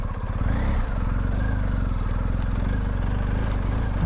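A BMW 1250GSA motorcycle engine drones steadily and close by while being ridden, a continuous low pulsing note with slight rises in pitch, no voices over it.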